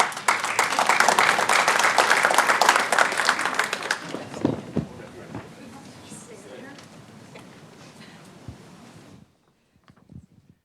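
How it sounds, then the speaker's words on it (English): Applause at a city council meeting, loud steady clapping for about four seconds that thins into scattered claps and room murmur before falling quiet, with a brief voice at the end. "One more applause."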